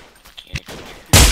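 Gunfire in the blocky shooter game Blockade 3D, a couple of faint distant shots followed by a sudden loud close burst of firing.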